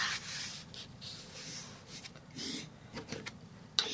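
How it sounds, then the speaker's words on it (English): A bone folder rubs along a paper crease on a handmade Valentine card, making quiet, repeated scraping strokes in short bursts, close and soft. "sharpen the crease with my bone folder"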